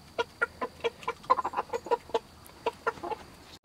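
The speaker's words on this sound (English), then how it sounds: "Our plans are to grow our chicken flock into all Icelandic chickens" Icelandic chickens cluck in a short series of clear, close, evenly spaced calls, about fifteen sharp clucks over a faint background hum.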